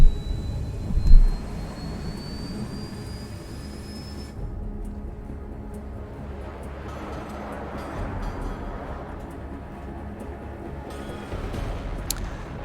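A jet plane in Ace Combat 7 takes off and speeds up, a loud steady engine roar with a rising whine that drops into a broad rushing rumble.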